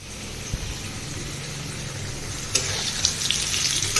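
Maggi noodles cook in a pan in a home kitchen with a steady close sizzle and bubbling. A few clinks and stirring knocks land toward the end.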